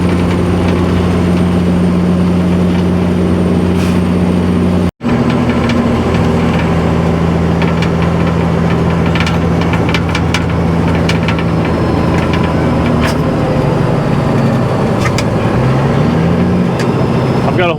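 A Peterbilt 379 truck drives with a loud, steady low engine drone and a continuous rattle from a loose window, heard close up from inside the cab.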